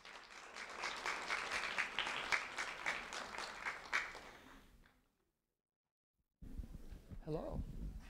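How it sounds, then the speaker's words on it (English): An audience at a sheriff's office award ceremony claps for an honoree in a sustained round of applause that tapers into silence, and then a voice speaks up close. "a round of applause for Jenna Jeanfort,"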